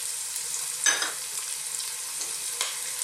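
Onions and chopped garlic frying in sunflower oil, a soft, even sizzle with a couple of brief stirring scrapes, close but fairly quiet.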